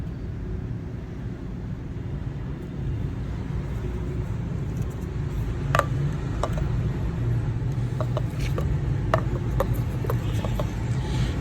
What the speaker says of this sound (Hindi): मेरे पास घर में ग्राइंडर मशीन अवेलेबल है तो मैं घर में ही ये पीस रही हूँ।